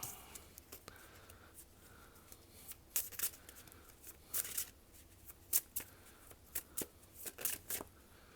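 Tarot cards shuffled and drawn up close: quiet, crisp riffles and sharp slaps come in short bursts against a hushed background.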